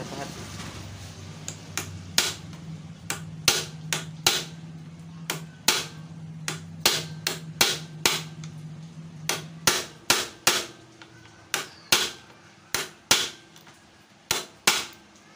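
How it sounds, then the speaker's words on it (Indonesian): Hammer strikes on a chisel against a stuck bolt on a Honda Supra X125 motorcycle, a long series of sharp metallic cracks at an irregular, quickening rhythm, loud and close, with faint background hum. "Coba kita pahat."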